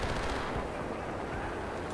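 Gunfire in the World War II shooter game Enlisted: a dense, steady crackle of shots with a heavy low rumble, loud and sustained for a couple of seconds with no talking.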